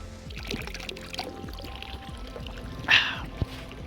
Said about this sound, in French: J'ai trouvé une petite source d'eau là, naturelle.